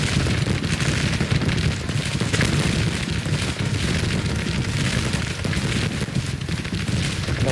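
Cannon fire and battle din from a Civil War strategy game, a dense continuous rumble of distant booms and crackling volleys, loud and steady throughout with no clear separate shots.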